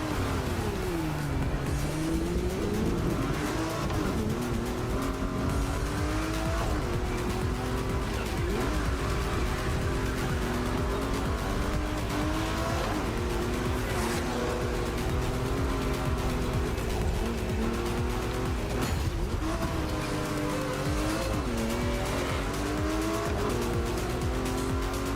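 Race cars in The Crew Motorfest driving a Toge mountain duel on winding Hawaiian roads, engines droning steadily with rising and falling pitch and repeated tire squeal and skidding throughout, loud and continuous.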